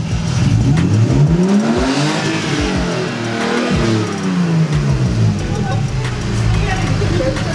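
A BMW E46 engine with a blown head gasket revs repeatedly up and down, rising and falling in pitch, loud and close throughout.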